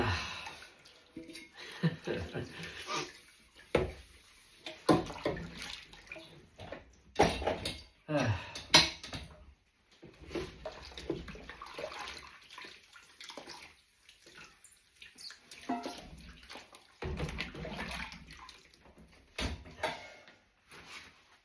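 Dog dishes are washed up in a kitchen sink: running water, splashing and clattering bowls come in irregular bursts with quieter gaps between them, and a person talks over the washing.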